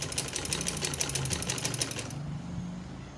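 A sewing machine runs a fast, even burst of stitching along a trouser seam for about two seconds, close and clear, then stops abruptly.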